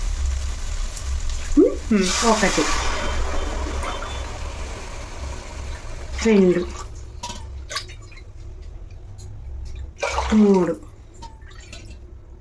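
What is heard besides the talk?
mint water being poured into a pot for pulao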